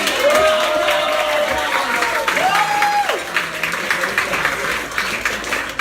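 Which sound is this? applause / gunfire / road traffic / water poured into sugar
applause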